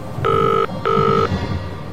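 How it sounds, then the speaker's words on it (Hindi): A telephone rings at night with two loud, close, electronic bell bursts separated by a short gap, then quiet room tone, with no talking. "उसका टेलीफोन बजने लगा।"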